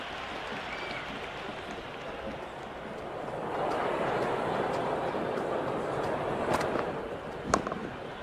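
A packed cricket stadium crowd at an India versus Pakistan T20 World Cup final roars and cheers in a steady distant wash that swells midway, with faint commentary and a sharp knock near the end.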